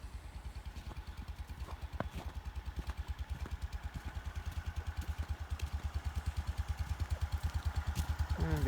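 Square-body truck engine idling after a cold start in the snow, a steady rhythmic low chug with even firing pulses that holds a constant pace and grows slightly louder, close by, with no talking.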